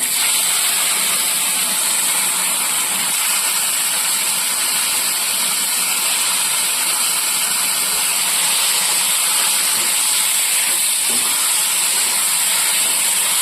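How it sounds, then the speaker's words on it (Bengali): Taro stalks sizzle in hot mustard oil with five-spice, in oil left from frying a hilsa fish head. The hiss is steady, loud and continuous, close up and with no talk. "কচুর ডাঁটাগুলো ছেড়ে দিচ্ছি"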